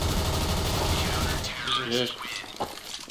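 Rapid automatic gunfire from a Counter-Strike: Global Offensive match, a dense burst of shots for about a second and a half, followed by a quieter stretch with a few scattered game sounds and a short sharp crack.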